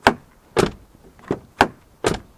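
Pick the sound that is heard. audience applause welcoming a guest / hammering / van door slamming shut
van door slamming shut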